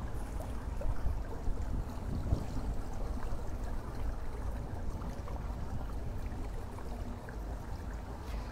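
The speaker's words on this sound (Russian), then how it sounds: "Спасибо за эфир с приятным шумом воды." A soft, steady wash of flowing water runs without a break, faint and continuous, with no voices.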